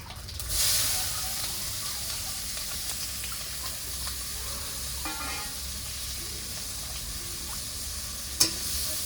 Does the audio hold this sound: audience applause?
no